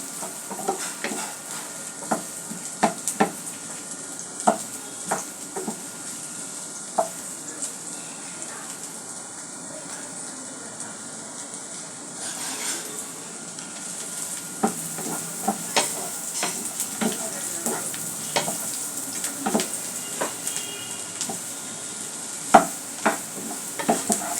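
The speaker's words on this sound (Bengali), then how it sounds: "রসুনগুলো ভালো করে কুচি করে নিতে হবে, ভেজে নিতে হবে" Chopped garlic frying in mustard oil for a taro-leaf mash, a steady soft sizzle with frequent scraping stirs and small clicks of a utensil against the pan throughout.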